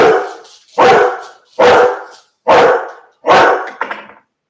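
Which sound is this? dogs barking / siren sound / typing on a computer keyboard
dogs barking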